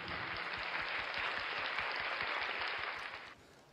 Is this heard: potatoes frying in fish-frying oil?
no